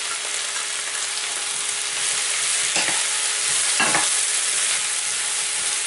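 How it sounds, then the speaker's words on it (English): Mushrooms and garlic frying in a pan for a spicy mushroom fry, giving a steady broadband sizzle with two brief stirring scrapes near the middle, close and constant, with no talking. "Fry it for 5 minutes."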